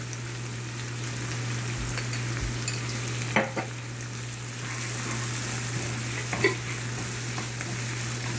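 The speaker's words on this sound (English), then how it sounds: "Saute it well." Ginger garlic paste sizzles with golden-browned onions in a hot pan, a steady crackling fry with occasional stirring scrapes and a low hum beneath.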